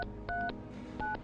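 A phone number is dialed as a quick series of distinct keypad tones with short gaps between them, close and clear, with no talking.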